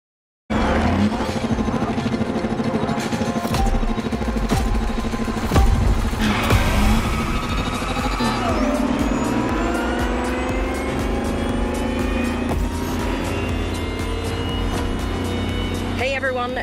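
A Lamborghini Terzo Millennio electric supercar in The Crew Motorfest gives off a loud, continuous futuristic whine whose tone climbs and sweeps as it accelerates, with no engine roar and layered game sounds beneath.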